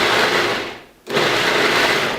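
A blender pulses romesco sauce in two loud bursts, a brief stop just after one second separating the whirring runs, close and alone.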